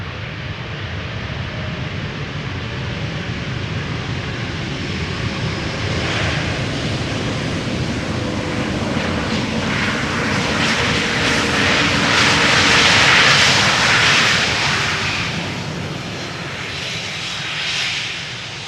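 An Airbus A321neo jet airliner passes at Schiphol airport with a broad, steady engine roar that swells toward the middle and fades gently, heard from a moderate distance with no talk.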